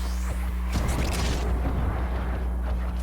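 Small bursting explosions from a Warframe dagger build proc during combat, a dense, continuous roar of booms and crackles over a steady low game drone, loud and close with no talk.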